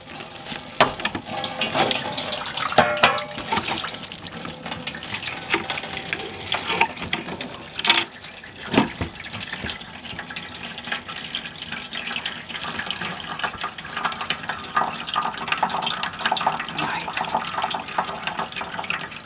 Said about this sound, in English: So this is basically just the water that is in the pipes that are below the sinks.